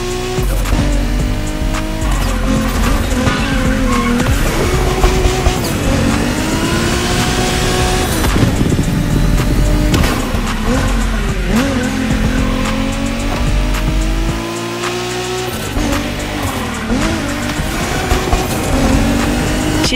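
A Toyota Supra Ryujin Edition races through Shinjuku-style Tokyo streets in The Crew Motorfest, its engine revving up and down in repeated sweeps while tires squeal through skids, loud and continuous.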